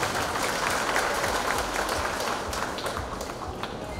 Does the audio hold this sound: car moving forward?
no